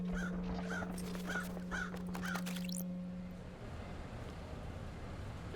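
Crows caw in a video game, five or six harsh calls in an even rhythm over a steady hum and airy background, then a quick fluttering burst before the calls give way to wind-like noise.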